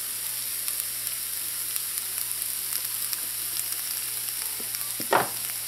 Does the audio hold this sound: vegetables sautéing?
yes